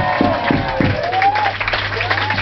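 An audience at an anniversary party applauds a special band, scattered claps blending with crowd noise and chatter, a few strong early claps giving way to a looser, ongoing patter, close and fairly loud.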